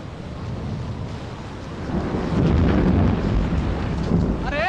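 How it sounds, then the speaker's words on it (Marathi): Rain setting in near the sea on a fishing coast, with a low thunder-like rumble and gusting wind building to a steady loud roar, no voices. "अरे पाऊस यायला सुरुवात झाली बघ."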